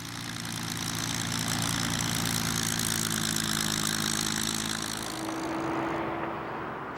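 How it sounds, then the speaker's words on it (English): A supercharged Rolls-Royce Merlin engine in a Mark 9 Spitfire runs steadily, a loud, rough, close propeller-engine drone with a deep throb and a shift in pitch near the end, with no voices. "The supercharged Merlin engine in the Mark 9 Spitfire is what they came up with."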